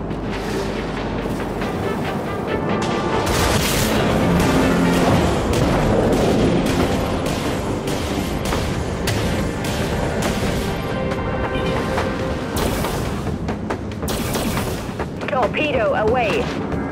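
Missiles launch from a warship in the Dreadnought game, a dense continuous barrage of booms, whooshes and firing that fills the whole stretch, with voices speaking under the din.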